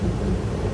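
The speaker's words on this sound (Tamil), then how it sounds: "மழை நல்லா தான் பெய்யுது" Rain falling outside a moving car under dark storm clouds, heard as a loud, steady wash of noise with a low rumble throughout.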